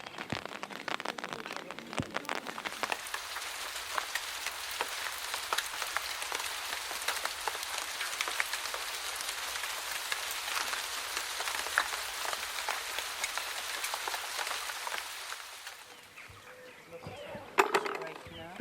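Rain falls on an open archaeological excavation trench in a garden at Berkeley Castle, a dense, steady patter of drops that eases off near the end, followed by a few light knocks.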